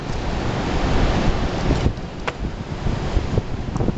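Strong wind of about 100 mph buffets a window cleaner high on a high-rise building, a loud continuous roar with gusting rushes and some microphone wind noise.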